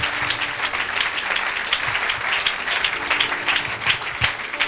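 A congregation at an evangelical deliverance service applauds steadily, a full, even roar of many hands clapping that carries on for several seconds with a few sharper claps poking through.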